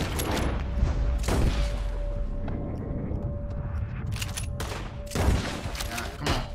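Gunfire in the video game Red Dead Redemption 2 crackles as several sharp bursts of shots and booms, scattered irregularly over steady background noise, with little talk.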